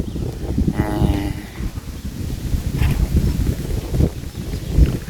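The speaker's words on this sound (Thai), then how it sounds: "ลมพัดไว้ๆ" Wind blows around a small hut in a rice field, buffeting the microphone. It makes a continuous gusty rumble with rustling, heard up close and fairly loud, with a faint voice briefly in the background.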